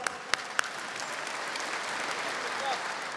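A comedy festival audience in Sopot claps steadily and densely for about three seconds, with a few sharp individual claps standing out at the start.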